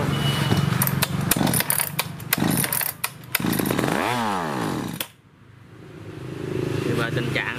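Petrol chainsaw with a Japanese carburettor, running unevenly on old, spoiled fuel: a rough, sputtering engine note that revs up and down, then cuts out into near silence before picking back up faintly, with a voice speaking over it.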